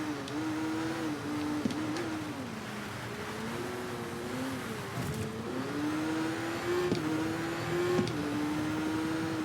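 Buggy engine in the racing game Gravel, a steady droning rev that rises and dips as the vehicle slides around corners, loud and continuous without a break.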